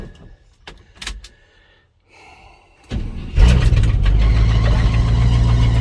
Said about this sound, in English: we're going to hear some squealing belts